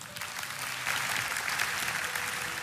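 Church congregation clapping together during a sermon, a broad steady patter of many hands heard from a distance with no talking over it.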